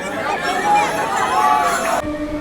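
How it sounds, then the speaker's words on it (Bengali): A huge crowd of pilgrims packs the train station at the Tarakeswar Shrabani Mela. Dense chatter and hubbub fill the space, loud and close and steady throughout, with a slight drop near the end. "আরে ভাই এ তো মারাত্মক লেভেলের ভিড়"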